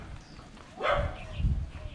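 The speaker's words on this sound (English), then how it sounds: "dogs." A dog gives a single short bark, fairly faint and somewhat distant, along a seaside road lined with mansions at Hac Sá Long Chao Kok in Macau, with quiet outdoor ambience around it.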